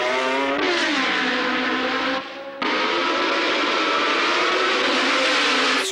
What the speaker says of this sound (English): Stewart took the lead when the 23 cars roared away